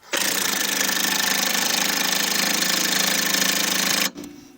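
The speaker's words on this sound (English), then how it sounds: "I'm keeping counter with the wrench 17, and with the impact gun from the other side 17" An impact gun rattles hard and continuously on a 17 mm front suspension bolt of a Mitsubishi Lancer VI, a loud, steady hammering whir lasting about four seconds before stopping abruptly.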